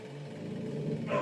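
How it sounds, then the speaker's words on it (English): A dog growls low and close, building into a sharper bark-like burst at the end, brief and moderately loud against a quiet indoor background. "Apologies for the dogs."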